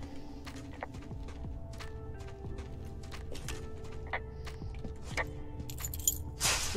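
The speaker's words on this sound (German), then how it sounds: "Schlüssel benutzen." Keys jingle and clink in the Firewatch video game as a player uses them in a cave, set over a steady ambient game soundscape with scattered small metallic taps and a brighter rattle near the end.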